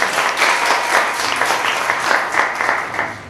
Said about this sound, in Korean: 유재영 작가 박수로 맞이해주세요